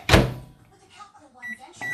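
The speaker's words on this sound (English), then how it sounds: "I'm gonna let her go back in there for a little bit longer." A microwave oven door is handled as a dish of rice goes back inside, giving a sharp loud clunk at the start, followed by fainter rustling and small clicks.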